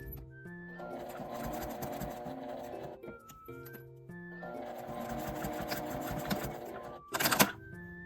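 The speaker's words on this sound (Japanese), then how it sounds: "かぶせて3辺を縫います。" Sewing machine stitching around three sides of a laminated mini pouch, running in two long steady bursts with a brief pause between and a sharp clatter near the end.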